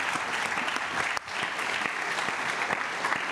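Sustained applause from an audience at a conference session on debt reduction, an even wash of many hands clapping throughout, briefly dipping midway before resuming.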